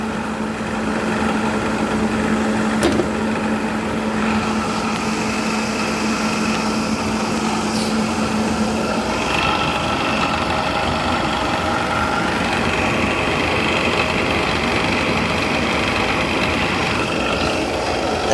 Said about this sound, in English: That blower wheel actually does blow a good amount of air over these coils.